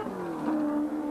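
A race car at the 1987 Bathurst 1000 pulls away from the pits after a quick stop for a flat tyre, its engine a loud, steady, rising drone.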